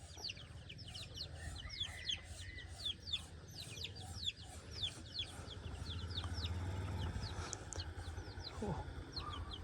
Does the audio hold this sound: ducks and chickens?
yes